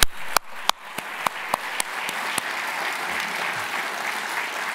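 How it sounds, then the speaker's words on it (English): Audience applause at the close of the 2022 GSA Design Awards ceremony: a few distinct claps open, then a dense, sustained wash of clapping from a crowd in a hall, steady and moderately loud to the end. "And then a final applause"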